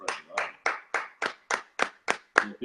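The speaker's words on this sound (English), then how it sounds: "So that we're clapping." Steady, evenly spaced hand claps, about nine sharp strikes in under three seconds, close and moderately loud, with no other sound between them.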